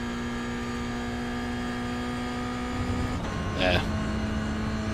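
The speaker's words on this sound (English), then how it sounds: "Listen for that rev limiter." A steady high-pitched Toyota GR86 Cup race car engine at Watkins Glen in a racing video game drones continuously, with a brief burst of stuttering revs near the end as it bounces off the limiter.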